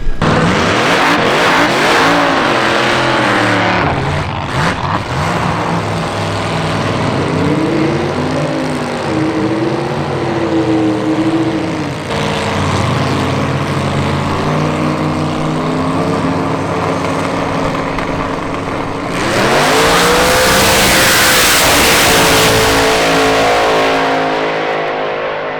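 A Dodge Duster drag race car makes a loud, sustained full-throttle run down the strip at Sick Week 2024, its engine note rising through gears, followed by another surge of roaring acceleration near the end.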